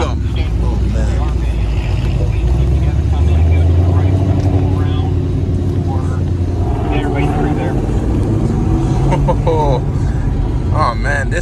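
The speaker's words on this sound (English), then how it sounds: "We are riding in the R8" Audi R8 supercar riding over a bumpy track during a rally launch meet, its engine drone loud and steady throughout, with excited talk from the occupants layered over the rumble.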